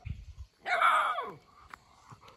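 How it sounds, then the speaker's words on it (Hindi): A small puppy at a temple gives one short, sharp, close bark, followed by faint scuffling and background noise. "क्यों भौंक रहा है तू?"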